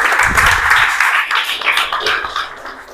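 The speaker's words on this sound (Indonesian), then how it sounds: "kasih tepuk tangan buat Nabil." Applause from a classroom group for a presenter named Nabil during a digital business teacher training session, a dense, steady patter of clapping lasting about three seconds without a break.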